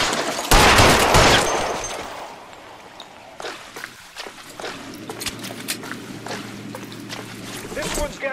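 Gunfire in the video game L.A. Noire: a loud burst of shots opens the scene and several sharp, single cracks follow over steady engine or water rumble, with people shouting between them.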